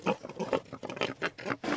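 Pigs on a cartoon farm grunt and snort in a rapid burst of short, rough, overlapping grunts, close and loud with no talk.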